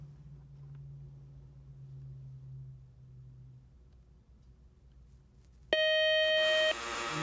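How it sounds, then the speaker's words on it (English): A low hum fades out, then a loud, steady quiz show buzzer blares for about a second, ending the match, before cutting off abruptly. "that buzzer means the end of our match"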